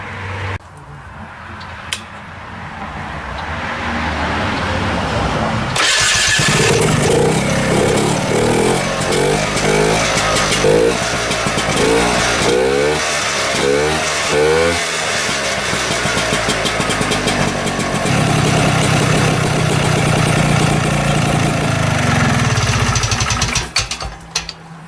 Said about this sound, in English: we'll fire her up, see how them tires turn